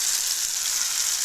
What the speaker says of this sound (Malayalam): അതിലേക്ക് അരച്ച് വെച്ചിരിക്കുന്ന ടൊമാറ്റോ പ്യൂരി കൂടി നമുക്ക് ഒഴിച്ചു കൊടുക്കണം